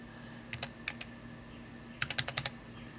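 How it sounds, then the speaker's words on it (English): Keystrokes on a keyboard against a low steady hum: two pairs of clicks early on, then a quick burst of six or so keypresses, close and distinct with no talking. "I'm trying to type and hold this thing."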